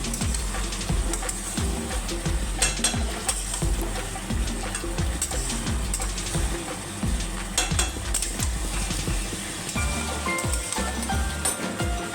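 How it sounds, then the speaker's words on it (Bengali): Fish being stirred together with onion, tomato and capsicum in a hot frying pan, steady sizzling with repeated scraping and clinking of a spatula against the pan, close and continuous. "মাছগুলোকে পেঁয়াজ টমেটো ক্যাপসিকামের সাথে খুব ভালো করে মিশিয়ে নিচ্ছি"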